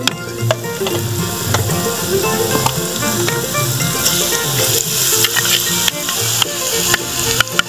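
Garlic sizzles in oil in a pan on a wood-fired stove, a loud, steady crackling fry with scattered pops and stirring clinks.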